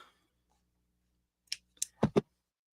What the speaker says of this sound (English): I need to get my good scissors because I don't want these ends to fray.